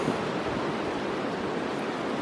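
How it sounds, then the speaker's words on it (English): Creek water flows in a steady, close, broadband rush with no breaks, heard alone during an early spring fishing trip. "Finally made it to the creek."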